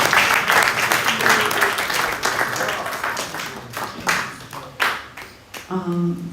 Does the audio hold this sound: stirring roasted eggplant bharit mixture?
no